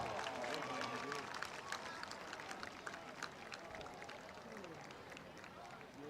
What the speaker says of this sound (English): Another round of applause for the Bearden High School Marching Band.